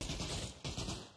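Short rattle of gunfire during a firefight in the VR game Pavlov, two quick bursts heard faint and distant.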